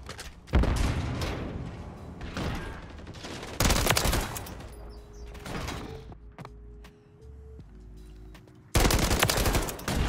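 SVA gunfire in a video game comes in loud, dense bursts of rapid shots with short pauses between them, close and punchy, with other game sounds in the gaps.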